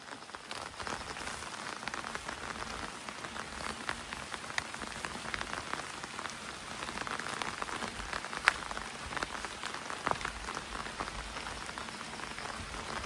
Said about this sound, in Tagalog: Lakas na ng ulan, kabsat.